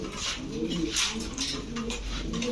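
Saharanpuri pigeons give near, throaty coos in overlapping bursts, backed by faint rustling and a few sharper noises, with no voices present.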